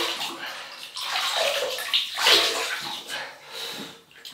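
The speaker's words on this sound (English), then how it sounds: "So I'll just wet the face." Water splashes and sloshes close by as a face is wetted before shaving, a few soft uneven splashes with a faint voice.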